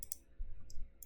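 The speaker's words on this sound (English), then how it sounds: "Double click on starter assets." Computer mouse double click, two quick faint clicks near the start, then another pair close to the end, over quiet room tone.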